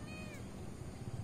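A small young cat, a recently abandoned stray, gives one faint, brief meow at the very start, barely above the steady outdoor background noise.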